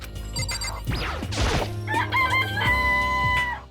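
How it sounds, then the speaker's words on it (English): A cartoonish chicken in the video game Danganronpa: Trigger Happy Havoc squawks and crows loudly with a few clucks, alongside game sound effects and a bright ringing chime. "It's a chicken."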